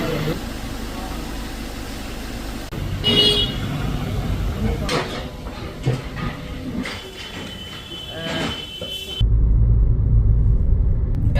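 A Maruti Brezza drives on a road test after alignment and wheel balancing, a steady engine and road rumble that stays loud throughout and swells near the end, with a voice talking over it.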